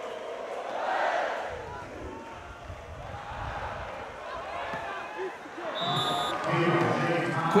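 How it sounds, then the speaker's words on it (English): Crowd at an FIVB Beach Volleyball World Championship match between Austria and Brazil, cheering and roaring in waves under a commentator's voice, with a whistle-like tone near the end. "And the crowd respond."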